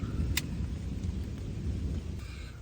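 Thunder rumbles low and continuous from a storm approaching a fishing pond, heard over steady rain, with one short sharp crack near the start.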